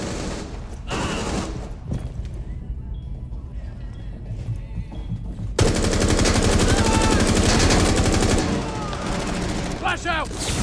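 Rapid bursts of automatic gunfire ring out in Rainbow Six Siege, loud and close, with quieter stretches between volleys and players talking over the shooting.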